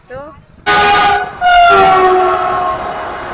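A train roars past close by, loud and sustained, with a horn blaring through the rumble for several seconds.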